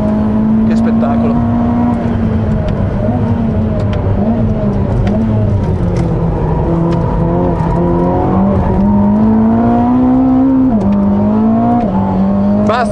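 A Ferrari SF90 Assetto Fiorano lapping the Fiorano track, its engine droning loud and steady from close by. The pitch climbs and falls through gear changes, and someone talks over it.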